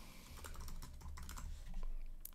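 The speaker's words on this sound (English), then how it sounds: "We'll type in an email." Rapid typing on a computer keyboard, steady clusters of close, fairly quiet key clicks with no voices.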